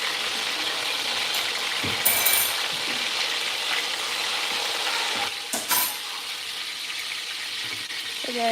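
Food frying in a pan sizzles steadily and loudly at close range, with a couple of sharp scraping stirs and a faint squeal near the end.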